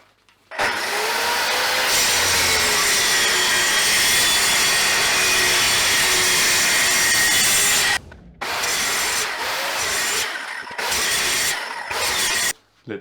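Power saw cutting into a chunk of wood, a loud, steady, close whine and rasp that runs for several seconds, then breaks into shorter cuts with brief pauses between them.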